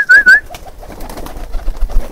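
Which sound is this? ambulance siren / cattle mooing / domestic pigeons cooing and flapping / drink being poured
domestic pigeons cooing and flapping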